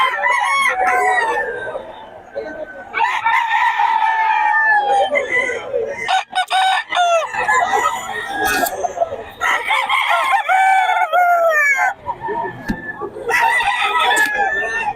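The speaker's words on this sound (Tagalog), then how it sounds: "O, mura rin mga manok ni Boss Batang ngayon." Several roosters crow loudly and repeatedly at a market, their long calls overlapping, with hens clucking in between and a faint murmur of voices behind.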